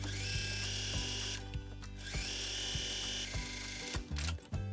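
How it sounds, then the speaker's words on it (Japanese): A sewing machine stitching a seam pocket on a garment, with a steady motor whir and rhythmic needle clicks that stop briefly between bursts of running, close by and with no talk. "ミシンで縫えたら、"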